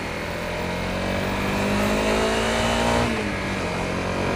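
A Honda CRF250L dual-sport motorcycle rides along a road, its engine droning steadily and loudly with slight pitch rises as it pulls, alone without voices.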